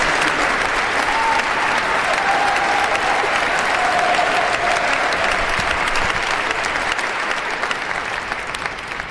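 A vast outdoor crowd at Donald Trump's presidential inauguration claps loudly and continuously, broad sustained applause with faint cheering that slowly eases toward the end.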